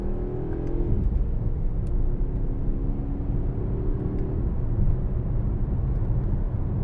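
A 2018 Mercedes-AMG GLC63 S with a 4.0-litre V8 BiTurbo engine downshifting, a deep continuous rumble heard from inside the car with a brief falling tone early on, steady and loud without talk.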